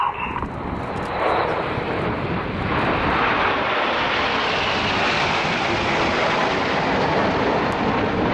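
RAF Red Arrows Hawk jets roar overhead during an air display at the Royal International Air Tattoo, a loud, sustained jet rush that swells early and then holds broad and steady as the formation passes.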